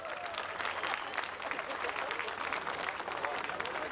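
Crowd applauding at a tractor pulling event in France, dense steady clapping and cheering filling the whole stretch, with voices mixed in.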